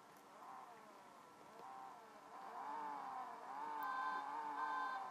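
Race car engine from the CSR Racing mobile game, a steady electronic engine drone with rising and falling revs that climbs in pitch and loudness toward the end, alone without talk.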